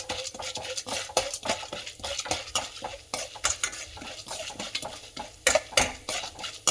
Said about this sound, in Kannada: ಸ್ವಲ್ಪ ಉದ್ದಿನಬೇಳೆ ಕಡಲೆಬೇಳೆ ಫ್ರೈ ಆಗಲಿ, ಕೆಂಪು ಆಗಲಿ, ಸ್ವಲ್ಪ ಫ್ರೈ ಮಾಡೋಣ.